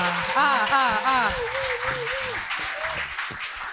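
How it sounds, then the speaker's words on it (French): An audience at an evangelical church concert applauds and cheers, with sustained clapping under raised, sung or shouted voices that are loud and close. "Est-ce qu'on peut acclamer tous ensemble?"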